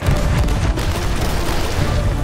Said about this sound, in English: I believe that now is the perfect time to use these cannons.